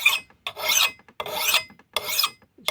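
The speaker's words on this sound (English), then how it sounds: "Let me just work the bevel a little bit on the other side" An old hatchet's bevel is worked with a file, giving four separate raspy strokes, each about half a second long, with short pauses between them. The rasping is close and clear, and no one speaks.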